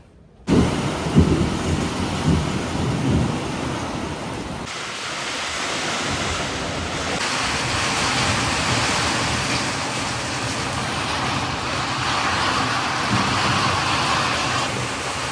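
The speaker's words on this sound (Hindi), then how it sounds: "बस आपको बता रहा था बारिश आ रही है" Steady rain pours down at a flooding house, a dense broadband hiss with low rumbling underneath, continuous and fairly loud throughout after a quiet start.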